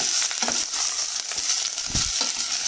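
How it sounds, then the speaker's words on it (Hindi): Chicken bones fry in ghee in a pan with a continuous, close sizzle broken by crackles and the scrape of a spoon stirring. "थोड़ा सा इसी घी में इनको भून लेते हैं, हड्डियों को"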